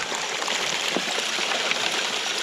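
Water running steadily from a hose into muddy ground, a continuous splashing trickle at moderate volume with no talk.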